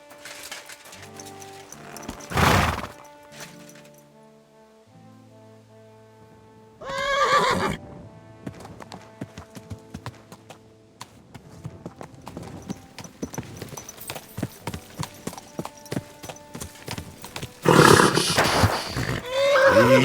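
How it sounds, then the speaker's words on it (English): In a medieval video game, horse hooves clip-clop in quick, uneven runs, broken by several loud, close whinnies and neighs, with faint game music tones under them and no clear talking. "Easy, good horse."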